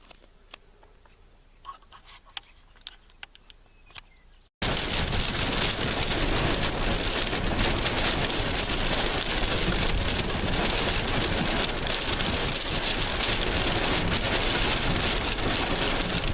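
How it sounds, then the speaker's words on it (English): Quiet patter with a few distinct drips, then an abrupt switch to a loud, dense, steady roar of heavy thunderstorm rain that keeps pounding without letup, with lightning around. "There's lightning all around. It's raining."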